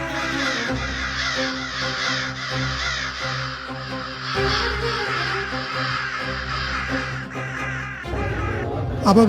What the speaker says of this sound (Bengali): ইসরায়েলের আকাশ ছেয়ে গেছে হাজার হাজার কালো কাকে